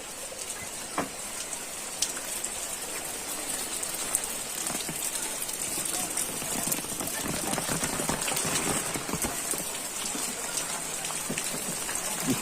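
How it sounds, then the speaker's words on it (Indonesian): Steady rain patters on surfaces in a hilly Indonesian countryside village, an even, continuous hiss of drops from start to finish, with faint voices now and then in the background. "Aduh, hujan Bapak ya."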